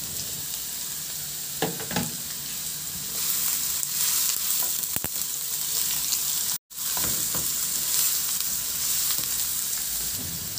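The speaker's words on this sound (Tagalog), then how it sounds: "Ilagay ko na rin yung sibuyas." Onions sizzle loudly in a hot frying pan with ginger, a dense steady hiss punctuated by a few clacks of a utensil against the pan, close up, with a brief dropout near the middle and no talking.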